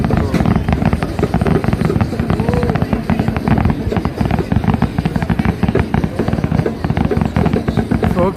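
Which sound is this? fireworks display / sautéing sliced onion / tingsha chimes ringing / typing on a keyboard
fireworks display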